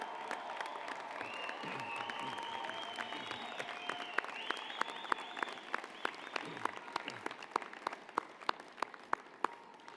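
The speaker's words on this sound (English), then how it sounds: "Wave and cheer, make some noise" Family and friends at a University of Calgary graduation ceremony cheering and applauding, whoops and shouts rising over broad clapping, with sharp individual claps standing out near the end in a large hall.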